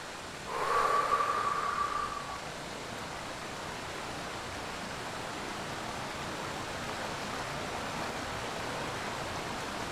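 A loud waterfall in a video game rushes as a steady, broadband roar that fills the whole stretch. A brief whistle-like tone rises over it near the start. No one speaks.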